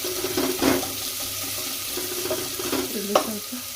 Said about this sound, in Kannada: ಈರುಳ್ಳಿ ಫ್ರೈ